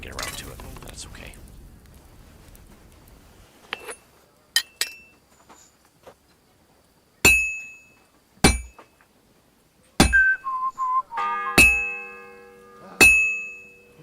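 Metal struck on an anvil at a blacksmith's forge in Kingdom Come Deliverance 2, sharp ringing clangs coming irregularly after a soft hiss, with a brief tonal chime in the middle of the strikes.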